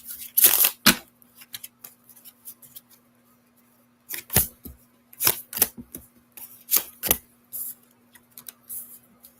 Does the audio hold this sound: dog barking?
no